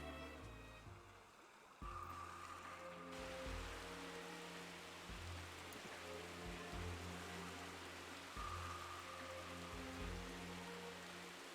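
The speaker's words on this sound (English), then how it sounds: "It started raining right when it changed music" Rain in the video game Uncharted Waters Online, a steady hiss of falling rain layered over game music with low sustained tones and occasional melodic notes.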